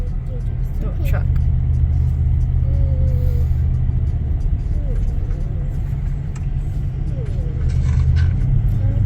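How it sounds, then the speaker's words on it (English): A truck passes on an outback road near roadworks along the Tanami track, a steady low rumble building and fading as it goes by, heard from inside a moving vehicle with its own engine drone. "Oh, truck."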